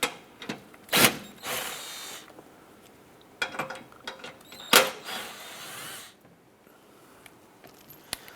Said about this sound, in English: to remove this shield, we're going to use our 15mm socket and remove these two large